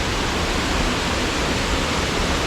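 Steady broadband rush of a waterfall along Makamakaole Stream in Hawaii, loud and constant, with nothing else audible over it.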